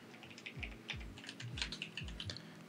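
Keys clacking on a computer keyboard during a Windows 10 start-menu search, a quick run of close, crisp taps with soft thumps, fairly steady over a low background hum.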